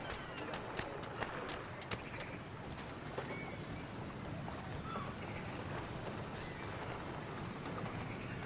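Horse hooves clip-clop in Assassin's Creed III, set in colonial Boston, as a steady trot of evenly spaced hoofbeats under a constant wash of wind and ambient background noise, with no voices.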